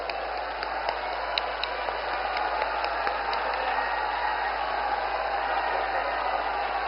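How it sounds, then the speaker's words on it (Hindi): A large crowd at a political rally with Prime Minister Narendra Modi in Hargaon applauds steadily, a dense continuous wash of clapping heard from a distance over a faint electrical tone. "प्रधानमंत्री जी को तालियां बजा के स्वागत करिए आप सभी लोग"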